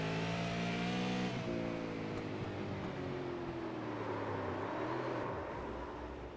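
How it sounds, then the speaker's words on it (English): A race car's engine at a Southern National short-track race, revving with strong harmonic whine that drops sharply, then climbs again as the throttle is picked back up, loud and close, then easing slightly at the end. "Let's hear when he picks the throttle up."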